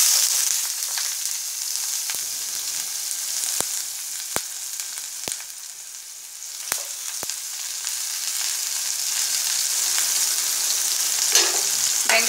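Onions frying with mustard and fenugreek seeds for a Tamil ellu kulambu make a steady, close sizzle throughout, with a few sharp crackles and stirring scrapes near the end.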